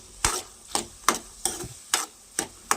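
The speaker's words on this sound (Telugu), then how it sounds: "కొంచెం దీంట్లో ఇప్పుడు ఆనియన్స్ వేసేసుకుంటే కొంచెం మనకు అది వేగుతూ ఉంటాయి" Onions fry on high heat in a pan for a ridge gourd and meal maker curry, with regular scraping stir strokes roughly twice a second over a soft, close sizzle.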